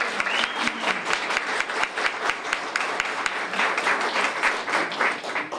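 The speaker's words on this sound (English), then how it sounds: "Let's give her a round of applause." Audience applause at a public talk on mental illness and addiction, a dense steady wash of many clapping hands that holds at an even level throughout with no voices over it.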